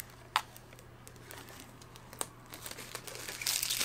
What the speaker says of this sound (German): Folie abgemacht.